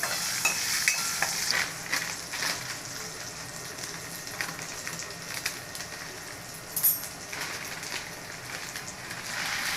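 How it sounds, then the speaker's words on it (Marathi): Almonds, cashews and raisins fry in ghee, giving a soft steady crackle with scraping stirs at intervals, moderately close and free of talk. "बदाम आणि काजू मस्तपैकी लाल झाले मनुका टाकू ह्याच्यामध्ये"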